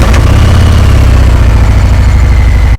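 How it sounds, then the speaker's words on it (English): A Harley-Davidson M8 motorcycle engine runs at a loud, close, rumbling idle with a steady low throb that cuts off abruptly at the end. "as soon as I hit the starter, it fires up"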